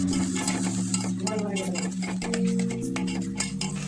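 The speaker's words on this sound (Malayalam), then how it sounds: "ഒരു പാൻ അടുപ്പിൽ വെച്ച് അതിലേക്ക് എണ്ണയൊഴിച്ച് ഇഞ്ചി, സവാള, പച്ചമുളക്, കറിവേപ്പിലയും ഇട്ട് ഇളക്കി" Ginger, onion, green chili and curry leaves are stirred in hot oil in a pan on the stove. A spoon scrapes and clinks in quick, close strokes over a soft sizzle, with a steady tonal hum behind it.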